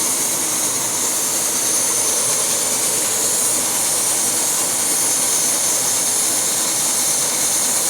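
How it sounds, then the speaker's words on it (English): A steady, loud roaring hiss from an MSR Whisperlite camping stove heating a pot of water to a boil, continuous and unbroken throughout. "It started to boil faster."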